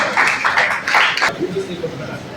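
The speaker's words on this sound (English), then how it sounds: "We have a applause for him as he comes forward." Brief applause from a lecture audience as a panelist comes forward, a short burst of scattered clapping fading out after about a second, followed by quieter room sound.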